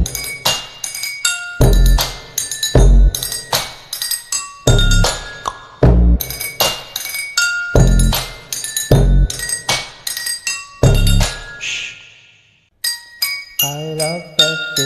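A song played on drinking glasses, bright ringing clinks and struck tones in rhythmic bursts with sustained pitched resonance, loud and close, breaking briefly near the end before lower tones resume.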